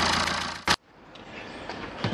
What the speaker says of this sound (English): what I need to do now, kill the engine